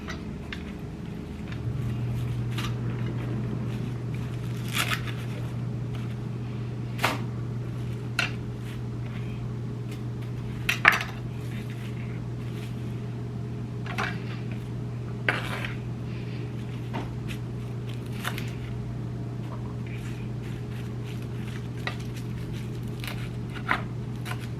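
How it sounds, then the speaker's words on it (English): A knife chops parsley on a cutting board in sharp, irregular taps, close and moderately loud over a steady low hum. "Next, we're gonna cut up some parsley."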